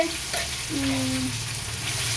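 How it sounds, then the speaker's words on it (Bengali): Nigella seeds tempering in hot oil in a home kitchen, a steady close sizzle and crackle with faint stirring under it. "কালো জিরে ফোড়ন দিয়েছি তেলে দিয়ে"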